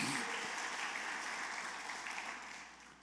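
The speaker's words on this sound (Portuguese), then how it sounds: "Dê um aplauso bem forte ao Messias nessa noite" A church congregation gives loud, sustained applause during an evening worship service, a dense wash of clapping that slowly fades over a few seconds.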